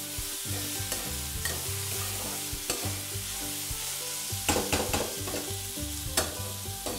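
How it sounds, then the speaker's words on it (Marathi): Boiled corn and coriander being stir-fried in a pan: a close, continuous sizzle with repeated spatula scrapes and clinks against the metal, the strokes growing busier toward the end, no voices. "त्याच्यामध्ये 1 मोठी वाटी कॉर्न उकडलेले, कोथिंबीर, पुन्हा व्यवस्थित परतून घ्यायचे।"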